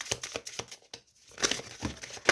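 Tarot cards from a deck being shuffled by hand, giving quick papery riffling and crinkling bursts in close, soft clusters with a brief pause in the middle, no talk over them.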